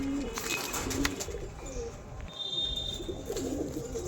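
Andhra pigeons coo softly in a loft, low throaty calls repeating over a steady background murmur, with an occasional faint chirp.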